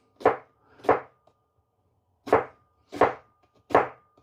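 A knife chopping food on a board in a kitchen: five sharp, close thuds, two in quick succession, a pause, then three more at an even pace, with no voices.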